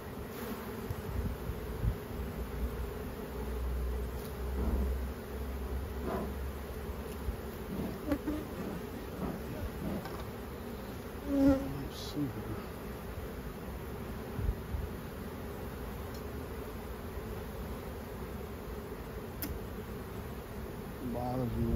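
Honeybees swarm over an open hive during frame work, making a steady close drone of many wings with a few louder passes near the ear.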